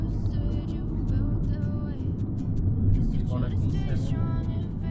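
Road traffic on a street in Daegu, South Korea, with a bus passing: a steady low engine rumble and passing-vehicle noise running throughout, with people talking over it.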